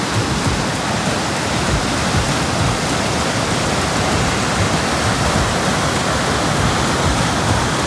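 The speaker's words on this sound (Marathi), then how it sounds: "पुढे पाण्याच्या प्रवाहाचा एवढा आवाज आहे की माझा आवाज त्याच्या समोर" Loud, steady rush of fast-flowing water close to a waterfall, a dense continuous roar that fills the whole clip with no pauses or voices.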